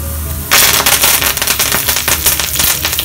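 Mustard seeds suddenly begin spluttering and popping in hot oil with urad dal, cumin and curry leaves, a loud, dense crackle of rapid little bursts that keeps going.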